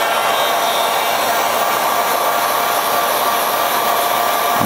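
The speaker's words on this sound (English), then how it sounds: "So I've got a heat gun" A heat gun blows hot air to warm stickers on a 3D printer bed, a constant loud rushing whoosh that fills the whole stretch without pause, no voices.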